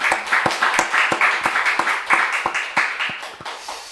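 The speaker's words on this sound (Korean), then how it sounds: "또 감사를 박수로 하겠습니다" A church congregation claps together in a steady, even rhythm, about three claps per second, loud and close, with no talking.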